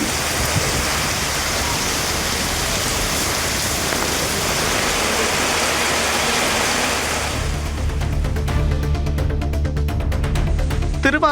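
Heavy rain driven by wind pours down in a Tamil Nadu town, a dense, loud, steady roar of falling water for most of the stretch. Near the end it gives way to quieter patter with a low hum.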